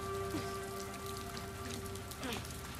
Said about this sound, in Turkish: Bakar mısın şu yağmur efektine ya?